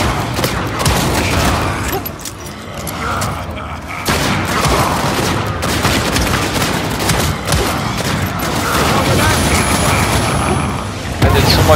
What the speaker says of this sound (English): just shoot at his head.